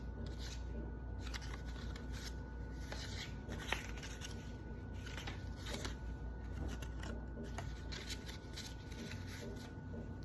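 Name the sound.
note cards being handled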